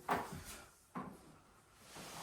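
A wooden access door to a water heater compartment in a single-wide manufactured home is swung open, two quick knocks and a soft rattle of the panel, close and quiet without speech.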